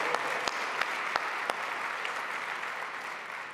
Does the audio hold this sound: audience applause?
yes